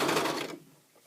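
A serger runs along a thick wool seam of sweater-knit longies, a loud, close, dense mechanical whir for about half a second before cutting off into near quiet.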